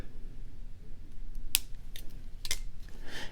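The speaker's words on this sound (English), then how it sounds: "I'm going to go ahead and trim." Scissors trimming wrap cord on a beaded bracelet, two or three crisp snips spaced about a second apart, close and clear over quiet room noise.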